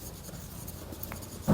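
Chalk or marker scratching on a board as a teacher writes during a physics lecture on refraction, a soft brief scraping stroke run, faint and close, ending in a louder knock.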